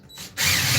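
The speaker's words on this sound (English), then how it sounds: "We need the drill to tighten" A power drill drives a long screw, with a short quiet ratcheting click followed by a loud, steady whirring burst of the motor, close and alone.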